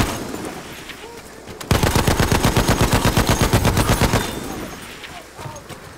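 Battlefield 1 online match in the Sinai Desert: a sustained burst of rapid automatic gunfire, loud and close, lasting a couple of seconds between quieter stretches of ambient battle noise.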